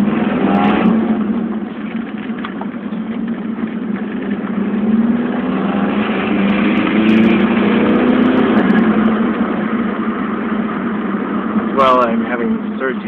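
A 1990 VW Corrado G60 with a 1.8 turbo engine drives along, a steady loud engine drone rising and falling with throttle amid road noise, with a surging, spooling problem; someone talks over it.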